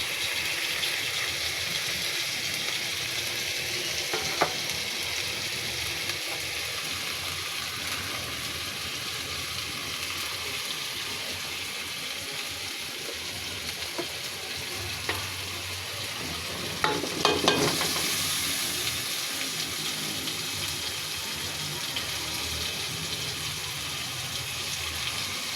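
Bay leaves frying in hot oil in a pan, a steady close sizzle that runs throughout with a few faint stirring clicks and scrapes.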